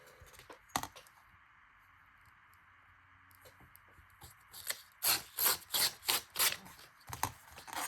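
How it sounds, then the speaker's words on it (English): Paper is torn straight by hand in a series of quick, crisp rips, each a close, loud burst, coming after a quieter stretch of light handling and rustling. "And then I'll tear this straight."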